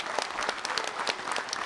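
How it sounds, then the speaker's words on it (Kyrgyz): Audience at a Manas-studies competition clapping together, a dense, even burst of applause close and loud throughout, with no speech over it. "Анда фондко дагы бир ыраазычылык билдирип кол чаап койсок."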